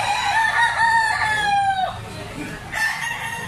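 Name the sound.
rooster crowing among gamefowl chickens for sale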